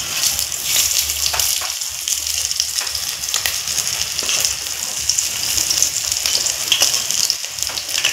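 Dried fish fritters with ash gourd leaves fry in hot oil and are turned over. A loud, steady crackling sizzle fills the whole stretch, with scattered small pops and faint clicks of the turning.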